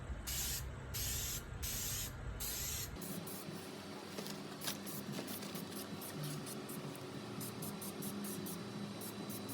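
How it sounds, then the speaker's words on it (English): Clear coat sprayed from an aerosol can onto yellow-painted BMW 3 Series factory brake calipers: a long steady hiss up close, interrupted by short rhythmic pulses and nozzle taps. "We applied the first coat of the clear coat."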